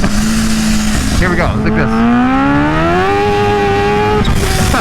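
A Kawasaki H2 motorcycle roars loudly on a dyno, engine pitch climbing as the rear tire slips and spins, with someone talking over it.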